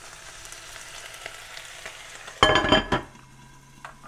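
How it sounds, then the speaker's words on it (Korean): Kale stir-fried in a pan over a low flame, a soft steady sizzle that bursts louder and fuller for about half a second of stirring before settling back to a gentle fry. "나머지 케일을 넣고 한 번은 볶아 주신 다음에"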